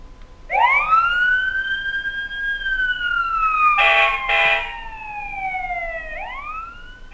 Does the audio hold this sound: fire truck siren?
yes